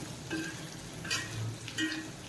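Soya chunks with garlic stir-fry in a pan over medium flame. A low, steady sizzle runs underneath, and a few distinct scraping strokes of the spatula come roughly every three-quarters of a second.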